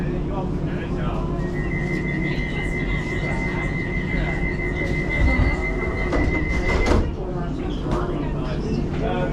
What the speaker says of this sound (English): This is a Mildmay line train to Stratford.